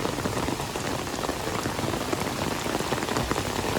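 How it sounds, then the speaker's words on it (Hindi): Heavy rain pours down in a dense, steady hiss of drops striking surfaces nearby, loud and unbroken with no voices. "गाइस आप लोग देख ही सकते हैं कितनी तेज़ बारिश हो रही है।"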